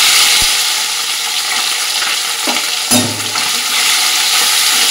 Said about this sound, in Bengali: এটা একটু কড়া করে ভেজে নেবো